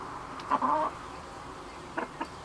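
A young rooster on a farm giving short clucks, one brief cluster followed by a couple of quieter clucks, moderately close over a low background hum.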